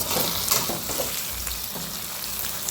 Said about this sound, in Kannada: ಈ ರೀತಿ ಎಣ್ಣೆ ಎಲ್ಲ ಫ್ರೈ ಮಾಡ್ಕೋಬೇಕು.